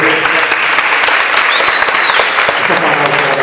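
Church congregation clapping steadily and loudly after a scripture reading, a dense wash of many hands close by with no pause.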